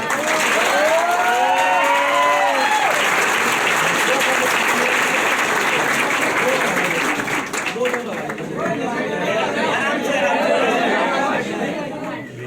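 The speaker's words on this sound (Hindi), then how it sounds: "जोरदार क्लैपिंग हो जाए" Loud clapping and cheering for a combined birthday and New Year celebration at a company gathering, a dense crowd applauding with chatter and voices mixed in throughout.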